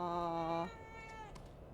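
A cat meows in The Evil Within 2 video game, one sustained, fairly loud tonal meow that fades after about half a second into quiet game ambience.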